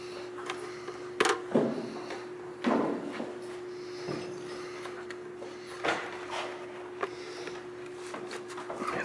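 Doors being closed indoors, several separate thuds and knocks scattered over a steady humming background, moderately near.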